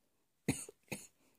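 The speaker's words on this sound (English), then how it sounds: "Excuse me, I still have a cough." Two short coughs in quick succession from a woman with a lingering cough, close and fairly quiet in a calm indoor room.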